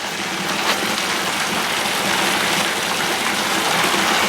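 Steady broadband rush of water from an aquarium fish tank filter packed with river rock, running continuously and fairly loud with no voices over it.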